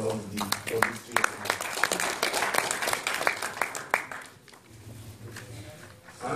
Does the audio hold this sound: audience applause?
yes